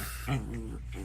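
A dog whimpers faintly in the background, a brief high whine mixed with low indoor hum, with no talk over it.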